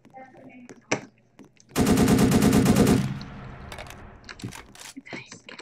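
Rapid automatic gunfire in the Roblox game Prison Life, a dense loud burst of about a second and a half that trails off, with scattered shouting voices before and after.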